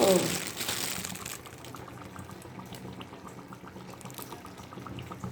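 Desi ghee goes into a hot cooking pot while making tarka, with a sharp burst of sizzling at first that settles into a low, steady bubbling simmer.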